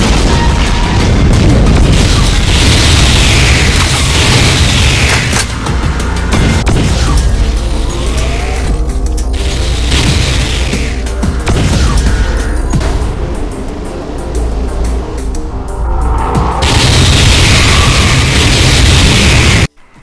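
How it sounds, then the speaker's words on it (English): A Mastermind fires spreads of Chaos Essence shots in a Doom mod, a loud, nearly unbroken roar of booming blasts and crackling bursts that lasts about twenty seconds before cutting off abruptly. "Firing spreads of Chaos Essence shots."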